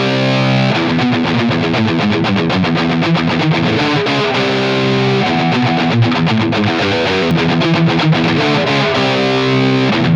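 Electric guitar fitted with Seymour Duncan humbucker pickups plays a high-gain riff, loud and dense, with chugging palm-muted rhythm and sustained distorted chords running throughout without a break.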